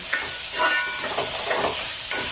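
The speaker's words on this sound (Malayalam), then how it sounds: "ഇനി നമുക്ക് അരപ്പൊഴിച്ച് കൊടുക്കാം." Ground spice paste poured into shallots frying for ulli theeyal, giving a steady close sizzle with soft stirring scrapes and brief bursts of crackle, no voices.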